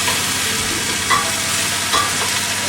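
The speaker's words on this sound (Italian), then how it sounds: "Abbiamo le patate cotte, leggermente salate col sale magico, e adesso le mettiamo nella padella a rollare." Cooked, lightly salted potatoes sizzle steadily in a frying pan, with two brief scraping stirs of a utensil cutting through the loud, continuous frying hiss.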